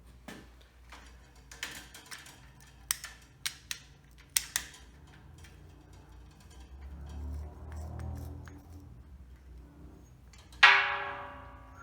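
Copper tubing on an 80-gallon air compressor being cut by hand, giving a few sharp metallic snips and clicks in a quiet room, followed by a bright ringing clink near the end.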